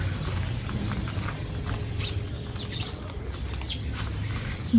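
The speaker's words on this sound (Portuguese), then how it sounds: "os passarinhos estão vindo dormir, daí tem bastante barulho de passarinho" Small birds settling to roost at dusk in a garden's Ipomoea rubra vine give scattered chirps and short squawks over a constant background chatter, close and moderately loud.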